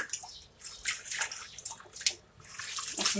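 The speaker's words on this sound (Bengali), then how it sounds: "শাকগুলো কুটাওয়াটা শেষ এখন ধুয়ে নিচ্ছি আমি হাউজের মতো বানিয়ে নিচ্ছি এটাতে" Chopped leafy greens being washed by hand in a basin of water, with close sloshing, splashing and dripping in uneven bursts and no talk.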